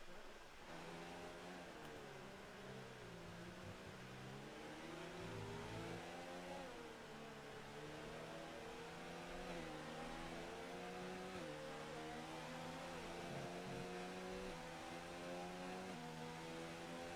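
Race cars circle a track during a TTM Tier 1 Mini Series race, engines droning and rising and falling in pitch as they pass, a continuous distant motorsport roar with no talk.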